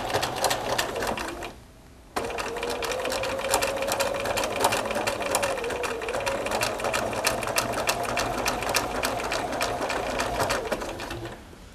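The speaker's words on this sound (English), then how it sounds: "you need to go very slowly so as to not jar your machine" A sewing machine stitches slowly over two layers of piping on a fabric notebook cover, a steady close mechanical whir with a brief pause near the start before running on continuously.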